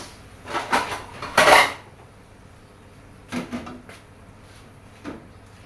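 Metal pan and utensils clank and scrape as stir-fried chicken offal in chili curry paste is tipped from the pan into a tray, a few sharp clatters in separate bursts against a quiet kitchen background.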